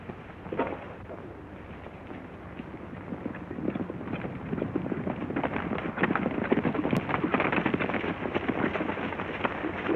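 Horses' hooves clip-clop steadily as several riders set off at dawn in an Old West setting, a continuous close rhythm of many hoofbeats that grows slightly louder and busier toward the end.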